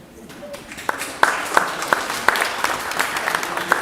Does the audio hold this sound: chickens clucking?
no